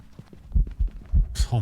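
A heartbeat from the Phasmophobia video game thumps in low, heavy double beats at a steady, fairly quick pace, close and loud, with a brief voice cutting in near the end.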